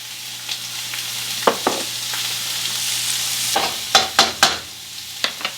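Steady sizzling of diced onion and pepper frying in olive oil in a hot pan, with scattered sharp clicks and scrapes from stirring, close by and without speech.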